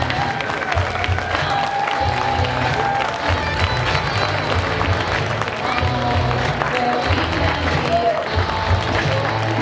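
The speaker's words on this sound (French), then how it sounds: "Une ovation et un applaudissement général pour les meilleurs grimpeurs de la journée." A crowd at a French bouldering competition final applauds and cheers the top climbers of the day, steady loud clapping with shouts and whoops under a continuous murmur of voices.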